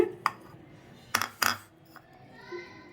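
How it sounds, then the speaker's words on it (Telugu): Beetroot pieces dropping into a steel mixer jar in a home kitchen, a few sharp clinks and thuds spaced apart, close and fairly loud against a quiet room. "ఈ బీట్రూట్ ముక్కలు కూడా మిర్చిలోనే వేసుకుందాం"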